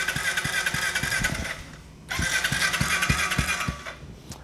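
A Kawasaki KLX 110 motorcycle engine cranks over after a battery change, the starter turning it in two steady bursts with a regular chugging rhythm and a short pause between them.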